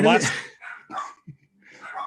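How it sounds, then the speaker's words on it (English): Several dogs barking excitedly indoors, sharp yips and barks mixed with a person talking loudly over them. "the dogs are just going to go nuts"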